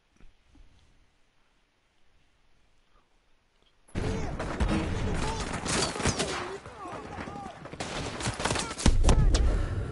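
Gunfire in the video game mission No Russian, silence giving way abruptly to a dense, loud stream of rapid shots and crackling bursts that continue to the end, with voices mixed in.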